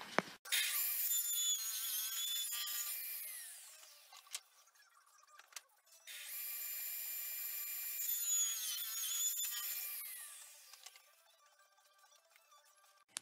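Two long sawing passes trimming the tops of wooden hall tree side panels to height, close and steady, each several seconds long with a pause between and no talking.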